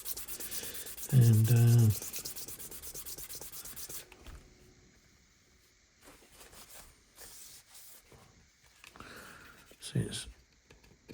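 Sanding putty on a Revell 1/32 Tornado F3 conversion model kit: a close, scratchy rubbing for about four seconds, then quieter scattered scraping and brief rustles, with a voice speaking briefly.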